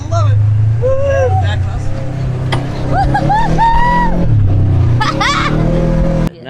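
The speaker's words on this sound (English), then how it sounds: "allowing me to drive a side-by-side for the first time" A side-by-side off-road vehicle drives across the desert near Quartzsite, its engine droning loud and steady close by, while excited shouts and whoops cut in over the noise.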